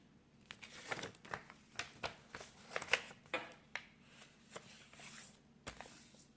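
A sheet of paper being creased and folded into an origami crane, a close series of soft crinkling swishes and sharp paper snaps coming in quick irregular bursts, quiet and near with no talk.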